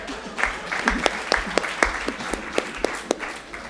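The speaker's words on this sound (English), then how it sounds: "Let's give Mao a round of applause." Applause from an audience at a high-level Africa policy dialogue, heard as fairly faint, scattered individual claps with a steady clapping wash beneath.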